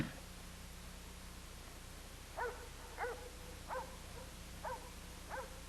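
Five distant dog barks, evenly spaced a little over a second apart, over a steady low hum and background hiss, with no talking.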